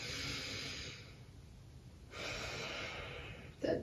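A deep breath in during a seated yoga twist, heard as a soft, close airy inhale, then a pause and a second long breath ending in a brief snort-like catch.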